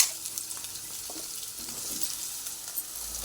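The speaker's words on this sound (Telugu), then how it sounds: "సొరకాయ ముక్కలండి, మనం కట్ చేసుకున్న ముక్కలు ఇందులో వేసుకొని ఫ్రై చేసుకోవాలి" Bottle gourd pieces frying in oil with cumin, a steady soft sizzle and crackle with faint stirring scrapes, close and continuous with no talking.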